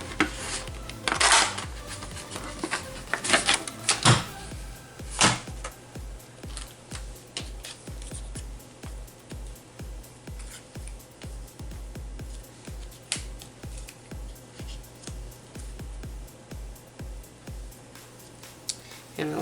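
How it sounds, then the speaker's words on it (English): Scissors cut a paper ticket from a green scrap for a junk-journal craft, a close run of sharp snipping clicks, dense at first and then settling into a steady repeated rhythm with no talking. "And we're just going to cut out a ticket."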